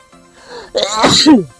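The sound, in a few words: sneeze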